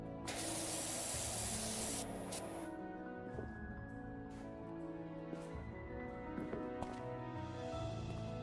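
A pressure washer sprays dirt off a bike in PowerWash Simulator, a loud continuous hiss that softens after a couple of seconds, under light game music.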